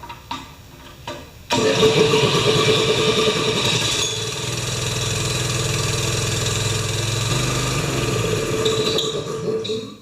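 A Honda engine on a wheelbarrow air compressor starts abruptly after a few faint knocks, then runs at a loud, steady idle with a slightly lower, rougher drone later on, nearby and with no talking.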